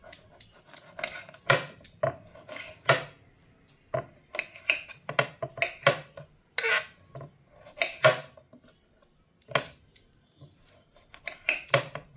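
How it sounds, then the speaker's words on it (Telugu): A lemon is sliced into four pieces on a board, giving a steady series of sharp knife cuts and taps, fairly close and loud, with no voices. "ఇక్కడ చూపిస్తున్న విధంగా నాలుగు భాగాలుగా నిమ్మకాయను కట్ చేసుకోవాలి"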